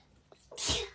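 A single short sneeze, close and fairly loud, preceded by a quick intake of breath in an otherwise quiet moment.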